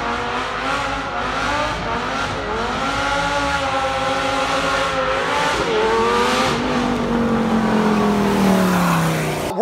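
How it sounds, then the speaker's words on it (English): A Lamborghini Gallardo with a titanium B-Rogue exhaust revs hard, its pitch climbing and falling through several sweeps before a long rising wail, loud and close with no talking. "This is the best exhaust you can buy for one of these cars, is the titanium B-Rogue exhaust. It makes it sound phenomenal."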